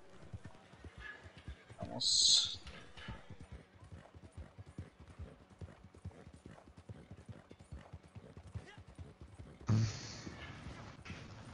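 Horse galloping in Red Dead Online, steady hoofbeats drumming under casual talk between players, with a sharp whinny early on and another bright neigh near the end.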